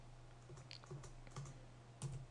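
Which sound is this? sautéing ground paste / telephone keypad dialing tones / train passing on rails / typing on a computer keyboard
typing on a computer keyboard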